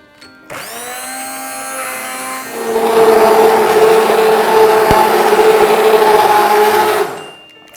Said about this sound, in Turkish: Şimdi blenderdan geçiriyorum.